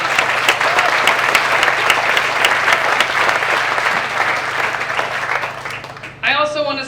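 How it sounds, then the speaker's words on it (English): A crowd at an athletic center groundbreaking ceremony gives a round of applause, loud and dense clapping that thins toward the end before a voice comes in over the last moment. "Let's give them a round of applause."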